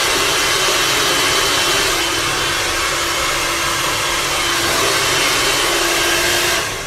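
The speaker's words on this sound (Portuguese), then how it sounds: "você vem e passa secador" A hair dryer blows steadily at close range while drying styled hair, a loud continuous whooshing roar with a faint motor whine that holds level throughout and cuts off at the very end.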